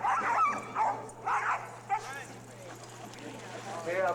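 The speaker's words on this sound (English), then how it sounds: "Now, you see the dogs are barking." Huskies barking and yipping in excited bursts before a dog-sled run in the Arctic Circle, several close barks in quick clusters with whines between, under a voice talking.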